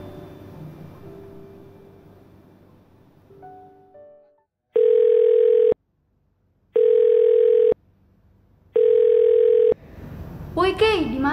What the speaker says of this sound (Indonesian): gue telepon Keisha dulu ya.